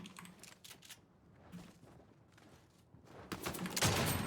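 Rapid bursts of gunfire in the Fortnite video game, quick rattling shots in short clusters at the start and again louder toward the end, with a quieter stretch in between.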